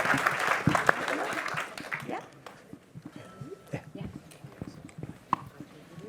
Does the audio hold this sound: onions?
no